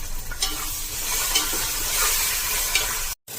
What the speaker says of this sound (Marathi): आपण त्याच्यात आता या कांद्यात टाकून घेऊया, थोडं परतून घेऊया.